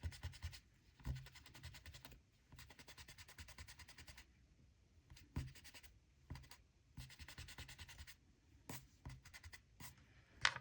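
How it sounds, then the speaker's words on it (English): A kneaded eraser rubs out pencil lines on paper in quick, close scratchy strokes that come in repeated bursts with short pauses between them, soft and dry with no talking. "I'm gonna take my kneaded eraser and I'm going to get rid of all of the pencil lines"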